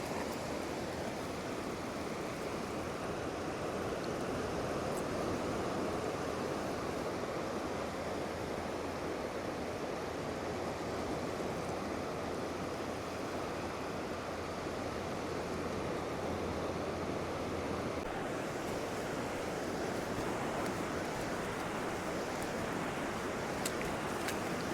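Waves roll and surge onto Upgang Beach in Redcar & Cleveland, a steady, unbroken roar of surf with wind buffeting the microphone, loud and continuous throughout with no voices.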